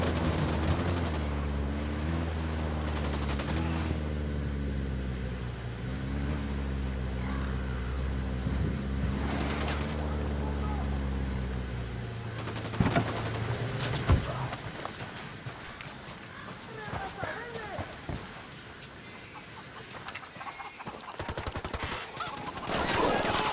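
Gunfire in Tom Clancy's Ghost Recon: Wildlands on Xbox One, sharp shots scattered among a steady engine drone, with radio-style squad talk running over much of it.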